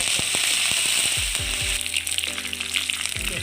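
Curry leaves hit hot oil with popped mustard seeds while cooking a healthy Kerala thoran, giving a burst of loud crackling and spitting that settles into a steady close sizzle.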